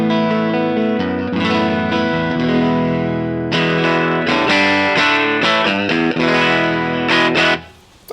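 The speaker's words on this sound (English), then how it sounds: "Just gives that little bit of room sound." Electric guitar played through a Line 6 HX modeler with a dynamic ambience reverb for a small room feel, sustained distorted chords and then choppier strummed hits, loud and close with a short reverb tail, no talk.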